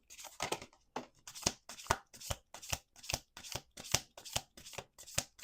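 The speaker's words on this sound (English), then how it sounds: "Last shuffle." A deck of cards is shuffled repeatedly in quick, even riffles, about a dozen crisp bursts with short pauses between, close and clear.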